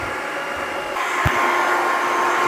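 Steady airflow from a hair dryer on low speed with heat on, drying and scrunching medium-length hair, a continuous hiss that grows slightly louder and fuller after the first second.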